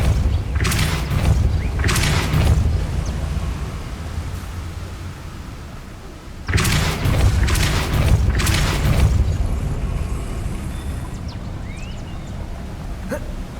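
Spell blasts from the Depulso force spell in the Hogwarts Legacy video game come as deep booming bursts in two clusters, each made of several sharp impacts over a loud, rumbling noisy background.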